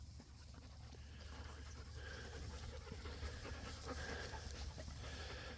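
Young dogs pant quickly and steadily outdoors on a sheep farm, the breathing faint and continuous against a broad hiss of background noise.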